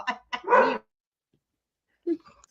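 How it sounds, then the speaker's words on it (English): Puppies bark in a few sharp, close bursts early on, followed by a long silence and a faint, brief sound near the end. "I'm gonna see what the puppies barking about."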